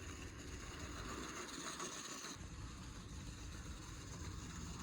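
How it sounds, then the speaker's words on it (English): A serviced model locomotive with a silver seal motor runs with a faint, steady mechanical hum and light rolling rattle, quiet and continuous with no voices. "Now the locomotive is running well"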